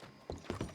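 Horse hooves in Red Dead Redemption 2, three quick soft clops close together, faint and brief.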